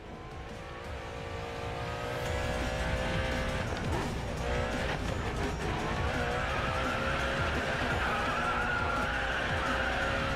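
Racing game engine roar from a car sliding sideways in oversteer, with tire squeal and skid layered over a steady loud drone throughout, alongside other racing cars.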